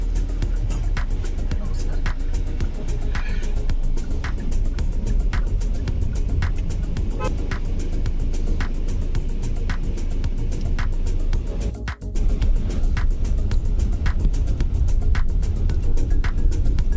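Hyundai Alcazar SUV on a test drive, a steady low engine and road hum heard from inside the cabin, even and continuous with faint ticking, one brief dip near the end.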